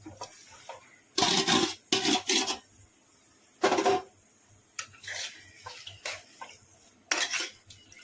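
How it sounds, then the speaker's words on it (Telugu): Chicken marinated in masala being mixed in a pot: a series of loud metallic scrapes and clanks of a spoon against the pot, coming in irregular bursts with short quiet gaps, close up, with no talking. "మొత్తం కలిపేసుకుందాం."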